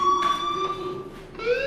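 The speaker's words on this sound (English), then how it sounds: "do you hear that fire alarm?" A fire alarm rings inside the video game Life is Strange, sending out a steady electronic tone with a brief pulsing rise near the end.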